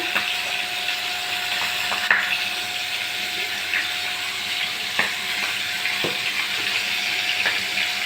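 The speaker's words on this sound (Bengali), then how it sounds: "লাল লাল করে ভাজছি।" Steady, close sizzling of pangas fish pieces frying in hot oil in a pan, with occasional sharp pops and spatters, and no voices.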